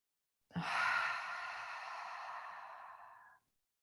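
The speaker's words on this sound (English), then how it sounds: "And a deep breath out." A single long, deep exhale during a yoga session, close and clear, a breathy rush starting abruptly and fading out over about three seconds against silence.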